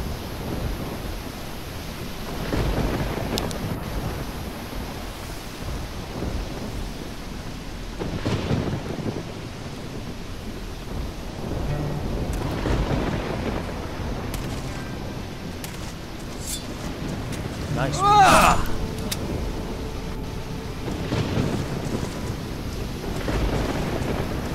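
Stormy ambience from the video game Risen, with steady rain hiss and several low rumbles of thunder rolling through, one sharper crack near the end; no talk over it.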